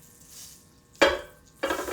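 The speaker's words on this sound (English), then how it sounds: "once we start to sizzle over here" Chicken pieces sizzle in a hot pan for chicken piccata, with two loud bursts of frying as pieces hit the oil, the second about half a second after the first fades, over a quiet kitchen background.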